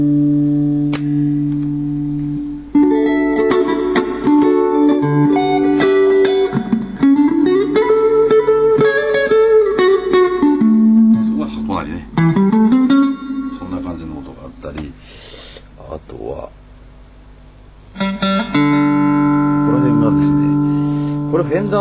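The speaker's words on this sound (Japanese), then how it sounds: "これはねジャズって音なんだけど" Electric guitar played through a Fender G-DEC Junior practice amp on a clean jazz setting, with sustained notes, sliding bends and short phrases separated by pauses, close and fairly loud with no talking.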